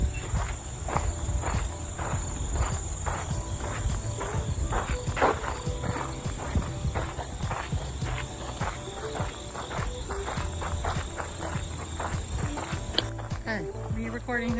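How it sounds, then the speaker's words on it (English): Footsteps crunch steadily at a campsite in Eisenhower State Park by Melvern Lake, a continuous run of close, uneven steps over a bed of outdoor ambience with insects buzzing. "We always make noise with our feet."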